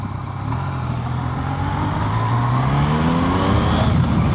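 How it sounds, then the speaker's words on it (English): A Yamaha XSR900 three-cylinder motorcycle engine drones steadily as it rides, its pitch rising smoothly through acceleration amid loud wind rush, with no pauses. "So this is a 3-cylinder engine."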